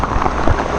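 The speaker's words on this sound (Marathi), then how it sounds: "खूप जास्त वाढलाय पाऊस" Heavy monsoon rain near a village on the way to Kemase Cave pours in a dense, close hiss over a brief moment, with no voices.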